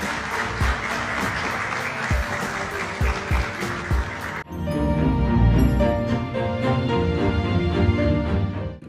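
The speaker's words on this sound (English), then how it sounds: "I invite everyone to share an applause, marking this momentous occasion" Audience applause at an official Ethiopian ceremony, with a crowd clapping for about four seconds, some claps sharp and close, before the sound cuts to loud, sustained music.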